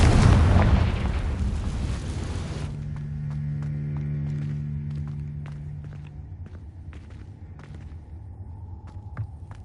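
A Confringo spell explosion in a Harry Potter-style video game. A loud booming blast fills the opening seconds, then decays into a low rumbling hum with scattered small clicks and debris sounds.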